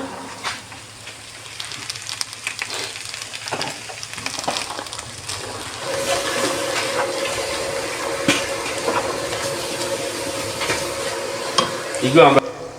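Potatoes and chana frying in a pan for a soft khichuri, with a steady sizzle and occasional stirring scrapes that grow louder and busier in the second half.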